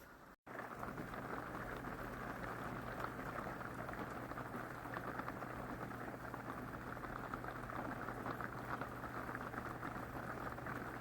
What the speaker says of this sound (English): It's good napping in an RV because you got that metal roof